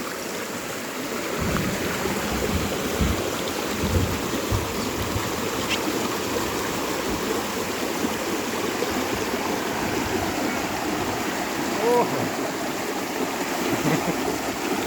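Steady rain falls outdoors at a rural Isan forest meal, a dense, even hiss of drops that holds without pause for the whole stretch, with no voices.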